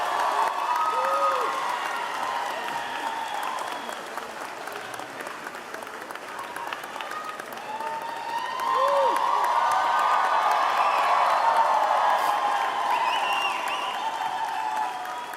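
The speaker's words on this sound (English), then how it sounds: "I was worried you weren't going to applaud the whole time" Large audience at a college of medicine commencement ceremony applauds continuously, dense clapping filling the hall with scattered whoops and cheers rising over it, swelling louder partway through.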